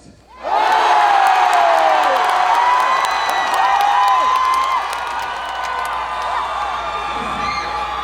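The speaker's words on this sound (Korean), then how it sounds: "여러분의 이 함성 소리가 원래 귀로 들려야 정상인데 가슴으로 들렸습니다" A large outdoor festival crowd at the Sangju World Hat Festival erupts into loud cheering, screaming and whooping, a sustained roar that swells suddenly and then slowly eases while staying strong.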